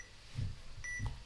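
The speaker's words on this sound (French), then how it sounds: "Donc il y a un bip." Two short electronic beeps from a Readit ZEN reading camera for visually impaired users, spaced about half a second apart, faint against a quiet room hum.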